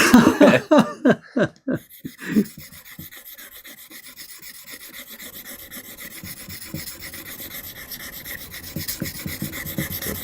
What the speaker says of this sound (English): So we've got to go back now to the finer stone and polish it.